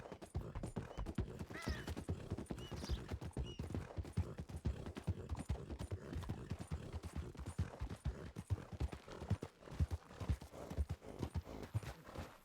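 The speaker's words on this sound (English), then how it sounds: "Can I hear 2 sets of horses then?" In a western roleplay video game, horses' hooves clip-clop on the ground in a fast, steady rhythm, the clustered hoofbeats close and continuous, with a brief whinny early on.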